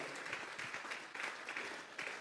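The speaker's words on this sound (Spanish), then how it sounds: "Vamos a regalarle ofrenda de palmas al Dios de la gloria." Church congregation clapping during a Sunday service as an offering of applause, a soft, fairly distant patter of many hands in uneven waves with slight swells.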